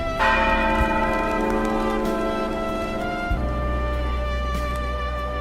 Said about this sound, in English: Bells ring across the city every hour.